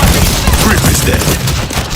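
Dense, loud gunfire in World War Z, overlapping rapid bursts in a continuous clatter.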